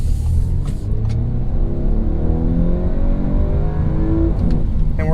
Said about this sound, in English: I'll give it some revs here